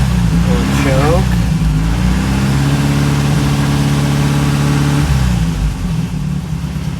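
A 1961 Sunbeam Alpine II engine idles cold, a close, steady low rumbling putter that holds fairly even, with a brief voice-like sound near the start.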